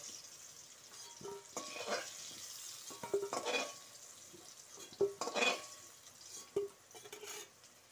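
Potatoes fried red in hot oil are lifted out of the pan, giving soft sizzling and bubbling with a few clinks of a utensil against metal, quiet and close, with no talk.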